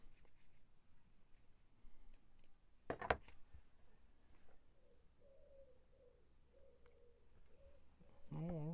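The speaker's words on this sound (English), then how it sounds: "There's a wood pigeon out there going, making its noise" A wood pigeon coos outside, faint and distant, a run of soft repeated hoots in a steady rhythm after a sharp tap, with quiet indoor sounds and a brief voice near the end.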